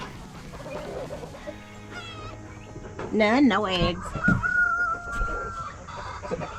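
Laying hens in a homestead coop cluck and squawk in short, close bursts, with a sharper cackle midway, mixed with brief talk and background farm noise.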